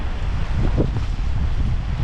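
Steady wind rumble mixed with rushing water at a waterfall, a continuous low roar with no voices and no distinct events.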